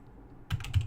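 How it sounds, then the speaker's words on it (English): Brief burst of computer keyboard typing at a Cisco router console, a few quick close keystrokes after a half second of quiet. "okay, I'm typing wrong."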